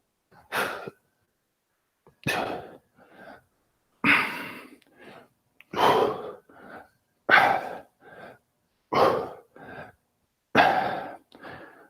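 Deep breaths during a morning wake-up workout for an older man: seven loud, forceful inhale-exhale cycles about every one and a half to two seconds, each a rough rush of air, with silence between.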